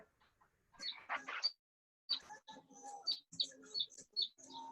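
Small birds chirping and tweeting outdoors, a quick burst of bright calls followed by a brief pause, then a longer run of sharp, varied chirps, fairly faint and with nobody talking.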